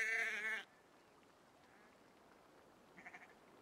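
A single loud, wavering sheep bleat opens the scene in the video game Assassin's Creed: Valhalla, then fades to a quiet ambient hush with a faint, brief second call near the end.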